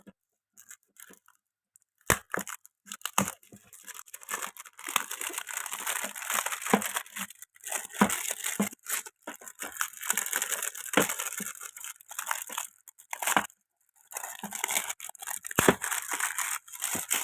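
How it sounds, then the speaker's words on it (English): Plastic shrink wrap is torn and crinkled off a two-disc special edition DVD case, a close run of crackling, rustling bursts with short pauses between them. "Now we're going to open the plastic."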